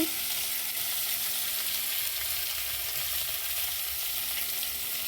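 Meat and potatoes frying in a pan, a soft, steady sizzle that hisses evenly throughout, fairly quiet and close with no talking.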